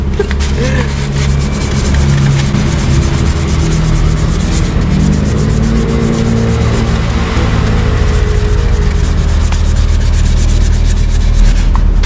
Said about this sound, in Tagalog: Lihain na lang natin.